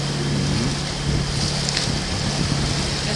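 A sailboat out at sea near trawlers, with steady wind buffeting the microphone and a continuous wash of waves and water rushing past the hull, loud and constant throughout without talk.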